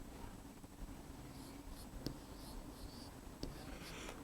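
Pen scratching on paper in a classroom setting, writing an Urdu word, with soft continuous scratchy strokes and a few sharper taps, faint and close against a low steady background hum.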